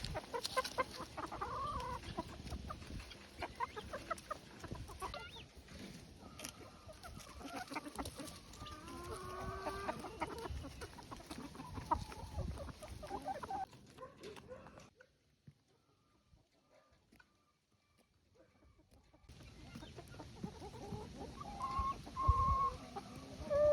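Backyard chickens cluck and murmur softly while pecking at a pumpkin in a ranch pumpkin-carving challenge, with scattered scratching and bird calls, a short quiet gap, then more clucking.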